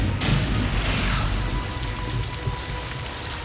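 Steady heavy rain falls in a dense, continuous patter on a surface, loud and close throughout, with no voices.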